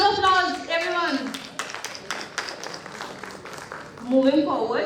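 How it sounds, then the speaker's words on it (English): Audience at a pharmaceutical conference claps in a dense patter of applause through the middle, framed by a speaker talking before and after over the hall PA. "a very big round of applause"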